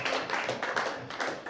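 A church congregation claps in a steady rhythm, moderately loud and close, a short burst of applause with no voices over it.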